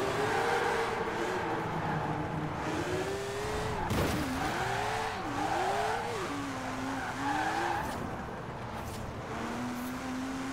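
A 1951 Porsche spinning out in Forza Horizon 4: a continuous engine drone with tires squealing and sweeping up and down in pitch as the car slides, loud and close throughout.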